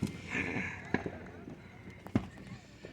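Fourth of July fireworks go off nearby in a few sharp bangs and pops over a noisy outdoor crowd, with people talking throughout.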